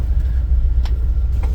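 A big, heavy truck on 44-inch military crane tires, running a 460 engine with EFI and a standalone ECU, gives a deep, steady, loud engine rumble from the cab, with no talking.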